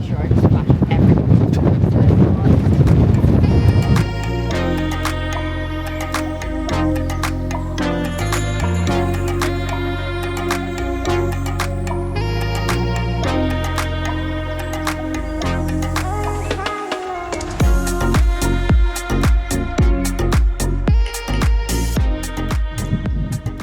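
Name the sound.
strong wind blowing on the microphone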